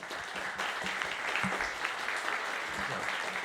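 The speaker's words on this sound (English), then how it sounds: "Keep it going. Come on. Clap your hands." Comedy-show audience in Orlando claps steadily for an opening act, a close, continuous patter of many hands with a few louder individual claps standing out, and no talk over it.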